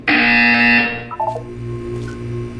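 A loud electronic buzzer from the video game Portal 2 blares for under a second, then gives way to a short falling run of tones and a low hum.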